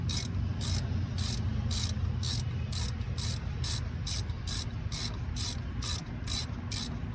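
A ratchet tightens a brake part on a Saab during a brake pad replacement, giving a steady run of sharp, close clicks, roughly two per second, over a low background hum.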